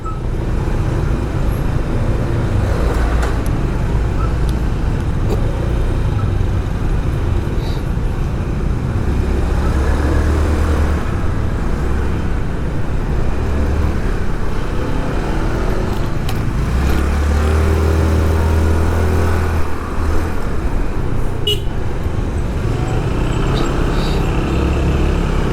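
Steady morning traffic on congested roads in Bali, a continuous loud roar of cars, motorbikes and larger vehicles passing close by, with engines rising and falling throughout and no talk.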